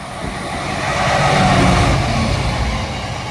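A train, likely a class 66 or 60 freight locomotive, passes on the railway line at Alfreton with a loud rumbling roar that swells to a peak midway and then eases while staying steady and close.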